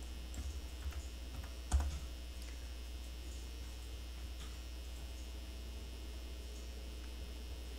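A single Enter key pressed on the numeric keypad of a computer keyboard, one sharp close click along with a few faint taps, over a steady electrical hum.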